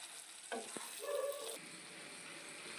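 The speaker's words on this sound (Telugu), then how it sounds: "కొద్దిగా మసాలా వేసి ఇప్పుడు బాగా వేపుకోవాలి." Spicy chicken with masala fries in a pan, giving a steady, close sizzle with a few stirring scrapes and clinks partway through.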